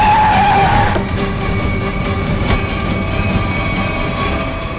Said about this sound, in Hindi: गाड़ी रोक रोक रोक रोक रोक।